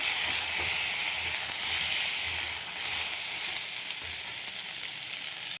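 Long eggplant strips frying in hot oil with black cumin for a chitol fish curry, a loud, continuous sizzle and hiss that holds steady close by with no talking.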